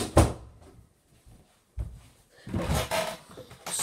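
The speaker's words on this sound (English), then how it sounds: "Let me go close my door." A door is pulled shut in a home room: a sharp knock near the start, another thud midway, then a rustling, clattering stretch as it swings and latches, fairly close with no talk.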